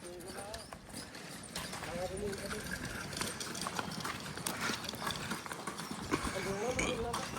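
Horse hooves clip-clop at a steady walking rhythm on a hard stable floor, close by, with voices talking throughout and other animal noise mixed in.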